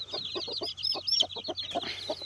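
Hens and young chicks in a coop give a run of short, close clucks in uneven bursts, with higher peeping chirps layered over them.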